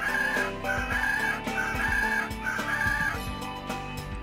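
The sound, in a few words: rooster crowing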